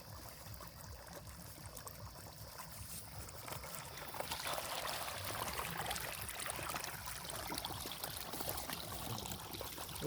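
Water pouring into a phone, a soft, steady trickle that swells after a few seconds into a fuller, continuous splashing stream, faint and close.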